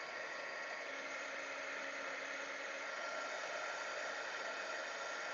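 A heat gun blows hot air onto shrink plastic for a keychain, making a steady, even whooshing roar that holds unchanged throughout.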